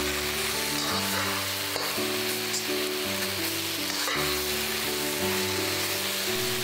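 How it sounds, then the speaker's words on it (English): Eggplant stir-frying in a wok with garlic sauce: a steady, close sizzle with a low hum underneath, no voices. "uncover the lid and stir around the eggplant a couple of times because they like to stick to the bottom"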